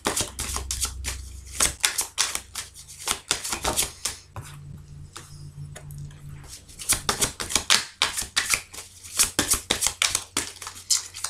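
Tarot cards being shuffled by hand, with several cards falling out: repeated brisk riffles and sharp slaps in quick bursts, fairly loud and close, with a short calmer pause midway and no talking.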